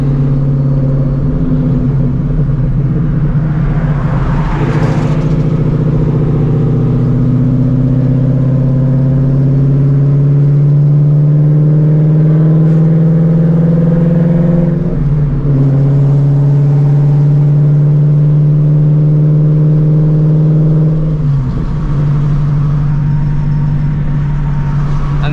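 A supercharged Shelby GT350 fitted with an ESS G3R kit, driven on the road with a loud, sustained engine drone that climbs in pitch and drops at several shifts, with no talking.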